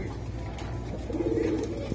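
Low pigeon cooing rumbles near at hand on a pigeon farm, soft and steady over a busy background hum; the flock includes Pakistani teddy, giribaz and other fancy breeds.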